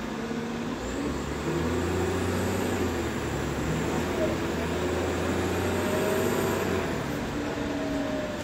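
Cummins ISL diesel engine of an STM Novabus LFS city bus heard from inside the cabin, a steady low drone with shifting tones and road rumble throughout.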